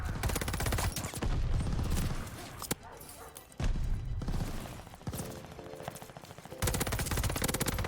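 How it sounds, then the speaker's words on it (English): Rapid automatic gunfire from a Cooper carbine in a first-person shooter video game, loud dense bursts nearly continuous with brief pauses, mixed with game effects. "I do not remember the Cooper carbine being this good."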